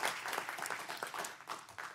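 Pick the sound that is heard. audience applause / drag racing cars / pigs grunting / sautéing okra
audience applause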